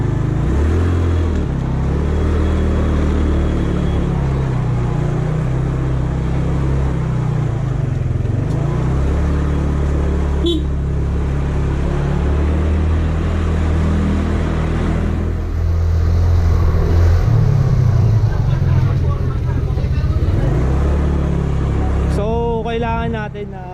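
Yamaha Mio Sporty motor scooter riding, a steady loud low engine drone with road rumble running throughout, the pitch shifting slightly as speed changes.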